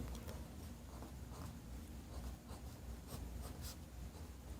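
Marker or chalk scratching across a board in a maths lesson, faint and continuous with small scraping strokes, no talking over it.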